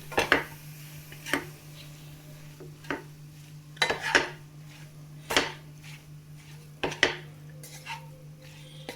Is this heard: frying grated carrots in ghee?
yes